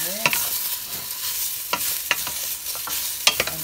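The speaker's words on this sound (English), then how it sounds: "then we will add on the bitter melon. And then we'll stir it." Bitter melon sautéing in a pan for Filipino pinakbet, a close steady sizzle punctuated by several sharp scrapes and clacks of a utensil stirring against the pan, with no talk.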